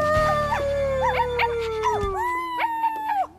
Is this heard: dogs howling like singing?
yes